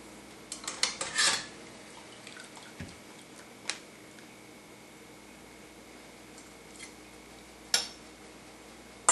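Sterilized metal kitchen utensils, including a ladle, clatter and clink in a few sharp bursts early on, then scattered single knocks at intervals in a quiet room during home canning.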